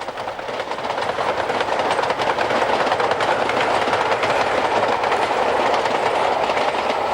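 A train rolls along the Dornoch Firth in Scotland with a steady rumbling roar and faint rhythmic wheel clatter, loud and continuous throughout, with no voices.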